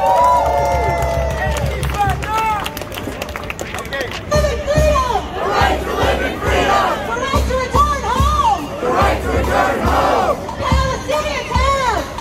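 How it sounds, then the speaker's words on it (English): A crowd at a street rally for Palestinian freedom in New York City, with loud shouting, whooping and cheering voices mixed with clapping, close and dense, rising and falling in waves. "Give yourselves a round of applause."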